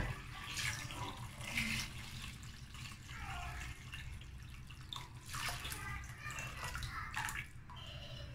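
Water pours steadily into a pot of meat soup already cooking with spices and oil, a continuous close splashing fill that lasts throughout with no talking.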